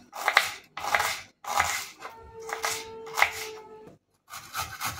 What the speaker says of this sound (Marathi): इथे 2 कांदे घेतलेले आहेत, आपण बारीक कट करून घेऊया